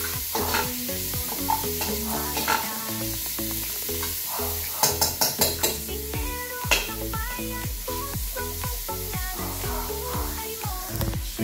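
Onion and garlic sauté in a pan for papaitan, with a soft continuous sizzle under brisk, repeated scraping and clinking of a utensil stirring against the pan.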